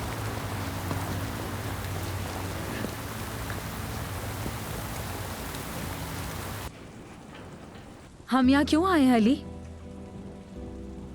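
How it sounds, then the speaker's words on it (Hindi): Steady, heavy rain hisses for several seconds, then the scene cuts to a quieter room where someone speaks briefly over a faint background hum. "अब बारिश रुकने का इंतजार तो करना पड़ेगा ना"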